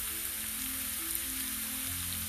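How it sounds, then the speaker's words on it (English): Onions and capsicum sautéing in olive oil in a pan, a steady, even sizzle and crackle heard close up with no talk. "saute these a little bit."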